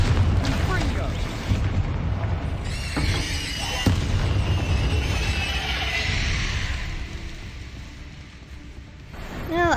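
A Confringo spell explodes in the video game Hogwarts Legacy with a loud, booming burst that rumbles and fades over several seconds among game sound effects. A voice talks over part of it.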